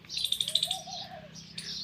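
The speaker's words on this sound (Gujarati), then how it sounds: "જો ખિસકોલી બોલે અટાણમાં" A squirrel gives a rapid series of sharp, high chirps, followed by a softer trailing call, moderately close and otherwise quiet, on a village farm.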